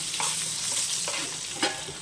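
Pointed gourd (potol) pieces frying in oil in a home kitchen, a steady close sizzle broken by a few light scrapes and clinks of stirring, with no talk.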